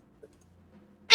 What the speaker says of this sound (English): That's my cat purring